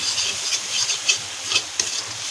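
Masala spice paste for Bengali fish curry frying in a pan, a steady close sizzle and hiss broken by a few sharp stirring scrapes and spits, with no voices.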